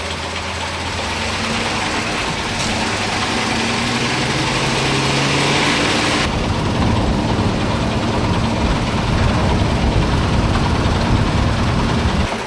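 A heritage train's traction motor runs at speed with the motor shunt engaged, giving a loud continuous mechanical roar and hum with rumbling, broadband noise throughout.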